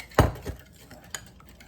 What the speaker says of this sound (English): Now I'm going to stir it up.